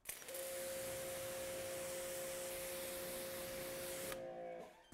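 Water spray rinsing a waxed car panel, a steady close hiss that runs for about four seconds and then cuts off, with a faint constant tone from a pressure washer or pump underneath.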